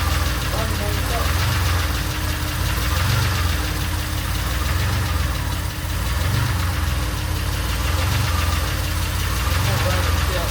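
A DeLorean engine idling steadily after a new idle speed motor was fitted, a continuous low rumble with a slightly uneven pulsing beat, heard close and loud throughout with people talking over it.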